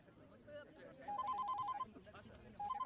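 A telephone rings in short repeated electronic trills, a burst of ringing followed by a pause and another burst, heard over faint background chatter in a dubbed South Indian film scene.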